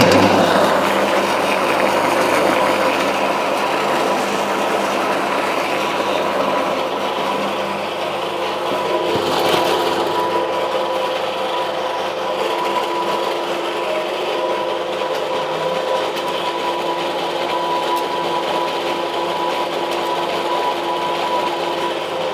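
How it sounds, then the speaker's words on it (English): A mill grinds and mixes corn into grasscutter feed, a steady, loud mechanical whir that runs continuously throughout with a dense rattling texture and a brief surge partway through. "We mix everything and then we pass it through the machine."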